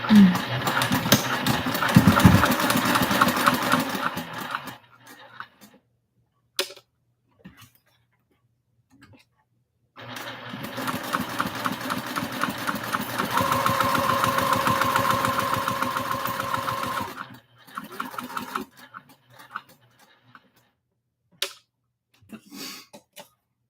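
Sewing machine stitching a Tremont Crossbody bag, with bursts of rapid ticking needle strokes separated by pauses and short isolated taps, close and fairly loud.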